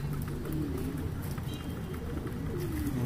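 Soft, low pigeon coos repeat faintly against a steady background hum, with no one speaking.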